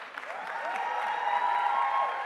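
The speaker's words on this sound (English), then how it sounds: "Can we have a big round of applause for our winners as well as our women in uniform?" Audience applause for award winners and women in uniform at a panel event, a steady wash of clapping with faint cheering over a sustained tone, filling the whole stretch.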